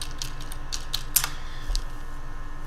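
A few scattered computer keyboard keystrokes, light and irregular, sound close against a steady background hum, with no talking.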